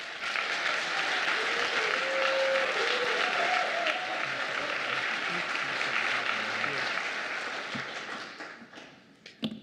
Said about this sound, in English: If we can hold that applause to the end, I'd appreciate it.